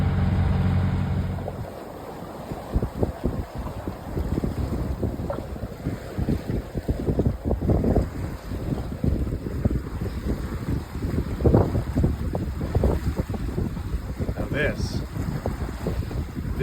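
A sailboat beats upwind at about six knots on Wabano Channel, with constant wind buffeting the microphone, water rushing and slapping against the hull, and scattered creaks and knocks throughout.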